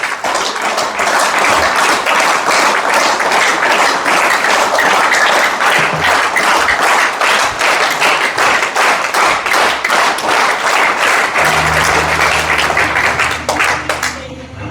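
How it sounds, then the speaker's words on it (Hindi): Around seventy people seated at a motivational business seminar clap loudly and continuously, a thick, close wall of applause sustained throughout before easing slightly at the very end. "एक बार जोरदार तालियां बजा दीजिए,"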